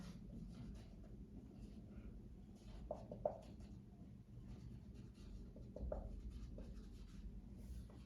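A teacher writes on the board, with faint, sparse scratches and a couple of light taps over a low steady room hum, heard quietly without talk.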